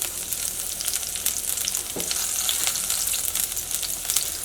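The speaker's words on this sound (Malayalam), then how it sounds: "ഇപ്പോൾ ഓയിൽ നന്നായിട്ട് ചൂടായിട്ടുണ്ട്. ഇനി ഇതിലേക്ക് പച്ചമുളക് ചേർക്കാം." Finely chopped green chillies fry in hot sunflower oil in a pan, a close, loud, continuous sizzle and crackle with a brief stirring scrape partway through and no voices.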